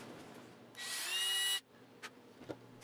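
Power drill driving a flathead screw into wood while building a trebuchet trigger, a steady high whine lasting under a second, close and loud, followed by a couple of faint knocks.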